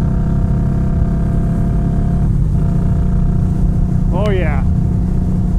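An Indian Scout Bobber motorcycle cruises at 70 mph in sixth gear, its engine a steady loud drone with rushing wind throughout; a brief voice exclaims partway through.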